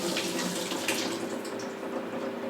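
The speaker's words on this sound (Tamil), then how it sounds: "இப்போ திருப்பி நாம வாஷ் பண்ணலாம்." Tap water runs in a steady, close rushing stream while a coconut is washed at a kitchen sink, an even splashing flow with no voices over it.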